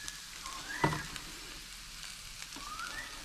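About 500 grams of beef mince sizzling and frying in a pan, a steady crackling hiss with a utensil knock and scraping stir near the start, close and alone without talk.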